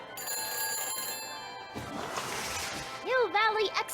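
Electronic phone ringing and dial tones from the phone helmet in the Back to the Future video game finale, with steady tonal ringing early, a brief noisy whoosh, then warbling sweeping beeps near the end.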